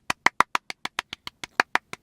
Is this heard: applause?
yes